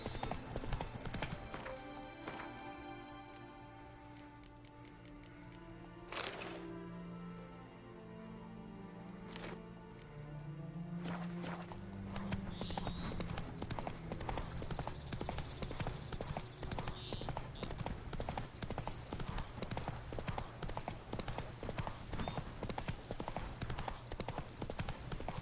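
Roach, Geralt's horse in The Witcher 3: Blood and Wine on PS5, gallops with clear, rapid, rhythmic hoofbeats that stay close and steady, with a brief whinny and a few sharp game sounds early on.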